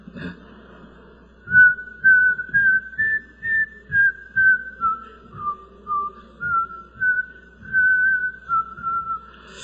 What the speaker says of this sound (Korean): 휘파람 부실 줄 아세요?